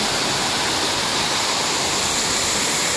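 A waterfall in Hong Kong Park pours with a loud, dense, unbroken rushing hiss, close by and filling the whole clip.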